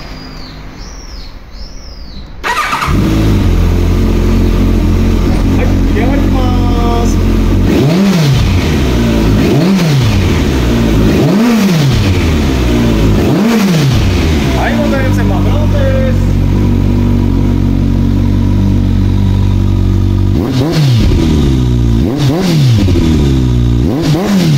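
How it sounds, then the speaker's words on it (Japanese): A Kawasaki ZRX1200 DAEG motorcycle with a black collector exhaust cranks and fires up, then idles loudly up close and is revved repeatedly in sharp rising-and-falling bursts. "それではですね、エンジン始動いきたいと思いますが"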